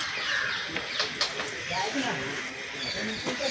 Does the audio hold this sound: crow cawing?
yes